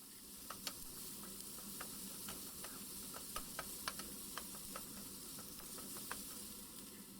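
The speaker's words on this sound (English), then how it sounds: "Then I can add my peppers and also fry it a bit." Peppers stir-fry in a pan for a vegetable-stuffed Spanish tortilla: a steady, quiet sizzle runs throughout, broken by sharp, irregular clicks of a utensil against the pan.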